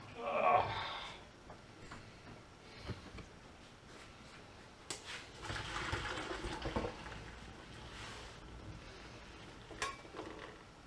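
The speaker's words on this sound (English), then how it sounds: "We're going to drain off the broccoli quickly." Water drains off boiled broccoli from a pan with an uneven splashing pour that rises midway, alongside scattered clinks of the pan. The sound is fairly quiet and close.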